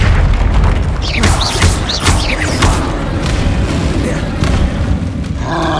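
The Depulso spell is cast in the Hogwarts Legacy video game on PS5, giving a loud booming magical burst over constant game noise, followed by whooshing effects.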